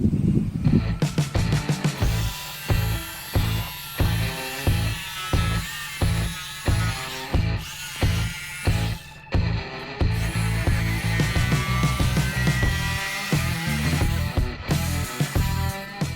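A power tool cuts a window opening in a Sprinter camper van wall panel, loud, close, rhythmic bursts of buzzing cutting in rapid repeated strokes, then a more continuous stretch.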